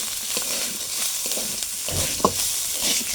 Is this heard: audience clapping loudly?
no